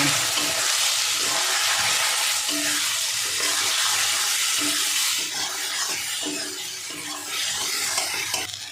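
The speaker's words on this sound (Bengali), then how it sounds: "সবগুলো একসঙ্গেই দিয়ে দেবো, দিয়ে ভালো করে ভেজে নেব" Marinated egg and soybean chunks fry together in hot oil, giving a loud, steady, hissing sizzle that fills the whole stretch with faint clatter now and then and no talking.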